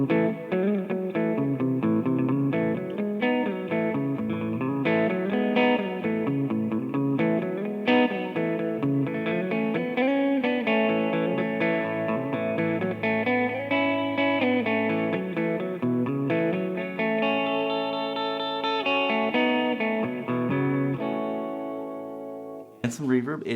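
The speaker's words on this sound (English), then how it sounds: "It is a digital hall reverb" Electric guitar, a Gibson Les Paul, played through a low-gain amplifier, chords and notes ringing with a wide, spacious digital hall reverb trailing each phrase.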